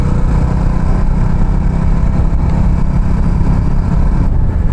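A 2025 Jawa Bobber 42 motorcycle engine drones steadily while riding, a dense, loud, continuous mid-pitched exhaust rumble mixed with wind noise and no pauses or talk.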